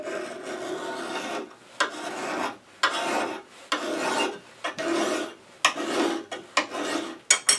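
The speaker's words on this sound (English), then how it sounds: "Just use a draw file," A draw file is scraped across a metal lathe tool rest in a woodturning shop, giving a series of about eight distinct rasping strokes, close and crisp, separated by short pauses.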